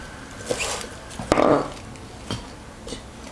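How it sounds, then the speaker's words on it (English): A knife coarsely chops the leafy side of choy sum or bok choy on a cutting board, giving a few separate close thuds and crunches spread irregularly, with one louder, fuller cut near the middle. "The leafy side, just coarsely chop like this."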